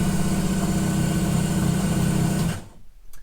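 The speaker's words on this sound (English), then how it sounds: "Fuel pump does work actually when you turn it on." A dry car fuel pump primes with a loud steady buzzing whine that runs evenly, then cuts off abruptly near the end, leaving quiet workshop background.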